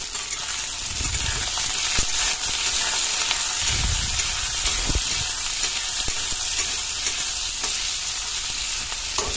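Spices stir-fried in hot oil in a home kitchen pan give a steady, close sizzle throughout, with occasional scrapes and low knocks from stirring and no talking.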